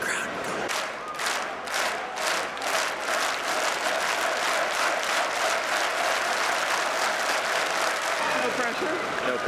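A large crowd at the Wacken metal festival in Germany claps and cheers continuously, a dense steady roar of applause with rhythmic clapping early on.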